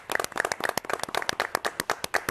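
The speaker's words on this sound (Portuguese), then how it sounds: "Palmas para a diretoria do Vasco" Hand clapping in quick, irregular bursts, close and crisp, a small group clapping in applause.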